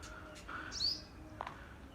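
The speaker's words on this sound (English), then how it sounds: "Oh wow, there are so many birds here, and many nests." Birds around a nest in a home garden give a couple of brief, thin chirps, one sharp and high, over quiet outdoor background noise.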